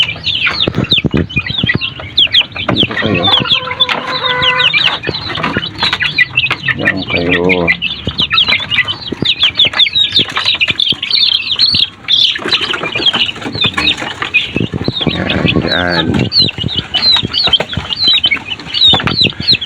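Rhode Island Red chickens cluck busily at close range, with bursts of wing flapping and scuffling mixed into a continuous, noisy flock chorus.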